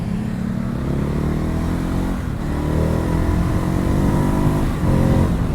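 Ducati Hypermotard 950 motorcycle engine from 2019 pulling hard under acceleration, a loud, steady, rasping drone whose pitch climbs and shifts with gear changes, heard close with continuous road and wind noise.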